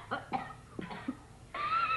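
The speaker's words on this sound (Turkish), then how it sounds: "Çok kötü öksürüyorsunuz." A person coughs several times in quick succession indoors at night, dry and close, followed by a rough breathy rasp.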